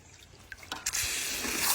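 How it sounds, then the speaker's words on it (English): Fresh water is poured into a garden bird bath, starting with a few small drips and splashes before settling into a steady close-up pouring trickle. "Put the birds some fresh water in their little bird thing."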